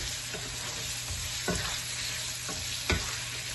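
Chicken pieces fry in hot oil for a chicken korma, giving a steady, dense sizzle throughout with a few sharper scrapes and knocks from stirring.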